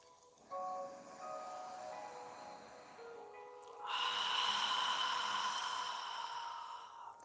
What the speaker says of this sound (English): inhale through your nose and exhale through your mouth